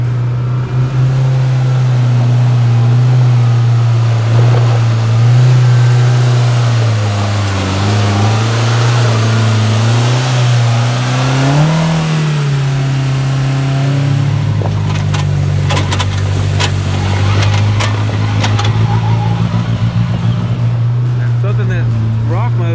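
A Polaris RZR Pro R 4 side-by-side with a 225-horsepower engine drones loudly and steadily, pitch rising and falling as the throttle changes, while a person talks over it throughout.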